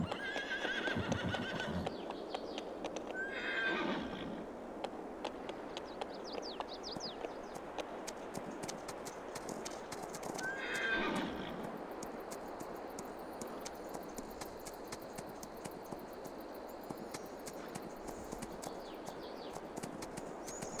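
Horses in Farming Simulator 22 whinny several times, with sharp neighs rising over a steady patter of hooves and faint bird chirps in the background.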